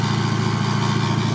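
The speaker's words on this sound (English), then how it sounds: "I don't know if you can hear that metallic noise, but that's new." An abandoned Volkswagen Golf GTI, its exhaust disconnected partway along, idles steadily with a new metallic noise, a close, even rumble with a fast regular pulse and no voices.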